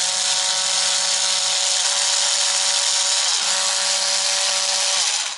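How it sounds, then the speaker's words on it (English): A Dremel rotary tool fitted with a small cutting disc cuts into a metal RC model chassis rail, giving a steady, loud, high whine with a grinding rasp that holds unbroken throughout. "we're going to get our Dremel here with a little cutting disc, and we're going to make two slits"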